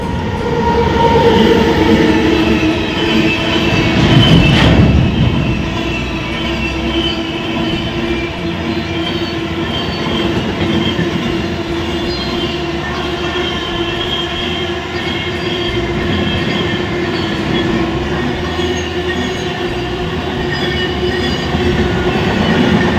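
An Indian Railways train rolling into a station at Raniganj in rain, a loud steady rumble of wheels and cars with a brief squeal near the start, continuing evenly throughout.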